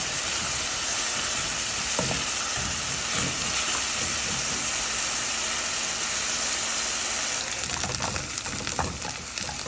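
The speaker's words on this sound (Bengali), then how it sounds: "পেঁয়াজটা ভালো করে ভাজতে হবে" Onions fry in a pan with a dense, constant sizzle and hiss, occasional soft stirring knocks, and a burst of louder scraping near the end.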